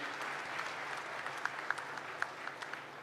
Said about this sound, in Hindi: एक बार फिर से ताली बजाइए मुख्यमंत्री जी के लिए